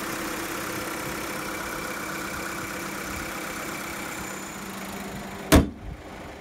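VW Polo 1.4 engine running steadily with the air conditioning compressor and fan on, a constant mid-pitched hum ending with a sharp thump near the end.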